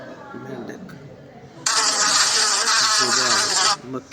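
A housefly gives a steady, close buzz lasting about two seconds, framed by speech before and after.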